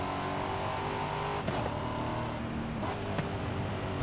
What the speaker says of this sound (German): Die Autos klingen so viel besser.